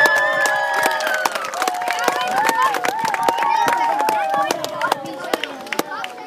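Crowd applause at a youth football tournament, an under-10 age group prize event, with scattered sharp claps running through the clip beneath a voice speaking over it.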